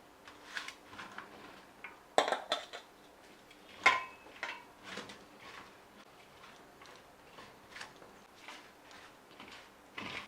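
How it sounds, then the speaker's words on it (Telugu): Mango pieces tossed with cooled fenugreek powder in a bowl for mango chutney, giving soft scattered clinks and taps of a spoon against the bowl, faint and irregular, with no talk. "మెంతి పొడి తయారైపోయింది చల్లారిపోయింది ఇప్పుడు ముక్కలు వేసి కలిపేసుకుందాం"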